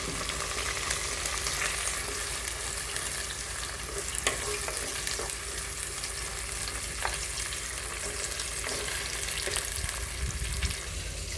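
Eggplant and tomato sauté in a pan for a sardine curry, with a continuous even sizzle and occasional soft stirring clicks, close and moderately loud with no voices.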